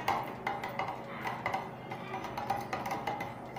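A spoon stirs ginger juice into rice water in a bowl, giving soft, regular clinks about twice a second over a low, steady background.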